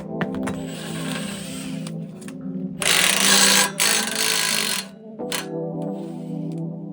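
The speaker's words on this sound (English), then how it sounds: "Then we can go ahead and get off the ball joint bolt" A wrench works loose the ball joint bolt and two knuckle bolts on a Lexus GX470 front suspension, giving steady mechanical whirring and ratcheting with a loud, harsh burst in the middle, close and without talk.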